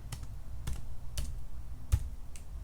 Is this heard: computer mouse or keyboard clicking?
yes